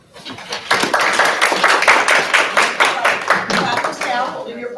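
An audience claps after a third grader's speech at a school oratorical contest, a close, brisk burst of many hands clapping that swells and then tapers off.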